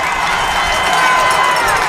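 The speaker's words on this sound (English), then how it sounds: "Listen to this crowd." Spectators at a high school water polo match between Haverford and Episcopal Academy cheer and shout loudly and continuously, a dense roar of voices echoing in an indoor pool.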